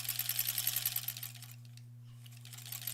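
A sewing machine stitches quilt rows together, a quick run of close mechanical clatter for about a second and a half, then a pause with a steady low motor hum, before faint stitching resumes.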